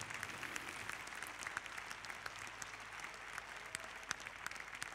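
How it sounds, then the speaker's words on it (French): Audience applause at the Saut Hermès 2022 CSI 5* show jumping event, a steady wash of clapping from a large crowd with scattered sharper claps, continuous and moderately distant throughout. "Un nouveau bouquet d'applaudissements pour saluer donc la numéro 1"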